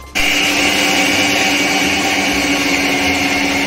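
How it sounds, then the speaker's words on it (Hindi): A mixer grinder grinding roasted flaxseed into powder whirs loudly and continuously after switching on, a steady high-pitched motor drone close by. "अलसी नूं असी पाउडर कर लिया मिक्सी विच"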